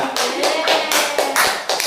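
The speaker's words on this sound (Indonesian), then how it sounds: "Oke, tepuk tangan untuk temannya" Students in a classroom giving a classmate a round of applause, brisk close hand clapping in quick repeated bursts with a few sharp taps, short and lively.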